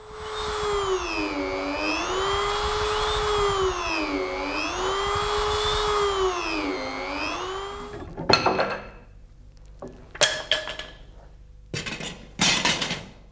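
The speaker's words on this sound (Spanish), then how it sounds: "perforarlos con un taladro especial" A power drill whines for about eight seconds drilling holes in a handmade clavichord, its pitch rising and falling in steady waves. Afterward come a few sharp clinks and knocks, with no one speaking.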